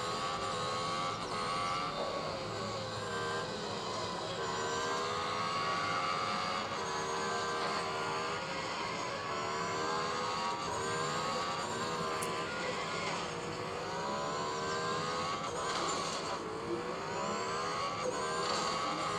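Continuous engine roar and shifting revs from a car racing in a mobile racing video game, steady and loud throughout with rising and falling pitch sweeps and no talking.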